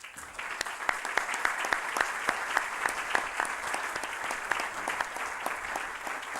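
An audience at a rehabilitation conference gives a strong round of applause for two guests, steady dense clapping sustained evenly throughout at moderate distance.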